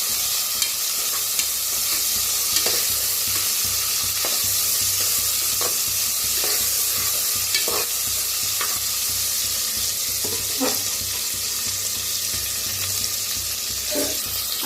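Curry leaves roasting lightly in a pan for spiced rice, giving a steady close sizzle with frequent scraping stirs and no voices.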